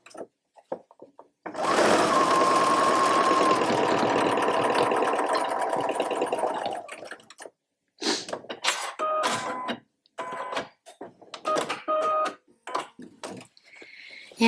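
A sewing machine fitted with a jeans needle stitches denim jeans. A long, loud, continuous run is followed by several short, slower bursts of stitching with gaps between them, close up.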